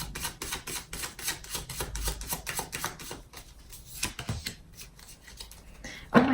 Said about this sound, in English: You guys see I shuffle them pretty good.